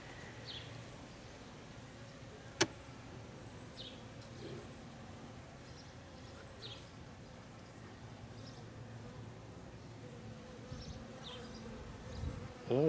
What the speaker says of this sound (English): So bees on the top cover, on the inner cover.